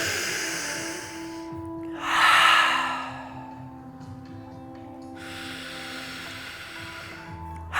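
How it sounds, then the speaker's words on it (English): Slow, deep yoga breaths, drawn in through the nose and let out through the mouth, with a loud prolonged airy exhale and a softer drawn-out breath later, close to the listener and without talking. "take 3 deep breaths together, in through the nose, out through the mouth, really prolonged"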